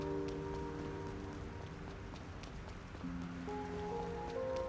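Chilly rain pattering steadily in the video game Trails Through Daybreak, a soft continuous hiss of drops under sustained synth music tones, with no voices.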